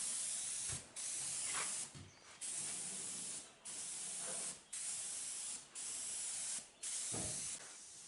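Spray paint goes onto a repaired outlaw speedway race car panel in long, loud hissing passes, roughly seven close bursts each lasting about a second, separated by short pauses.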